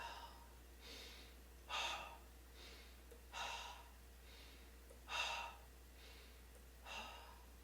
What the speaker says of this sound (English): This is an energizing, cleansing practice. Ready? Let's exhale all the air out.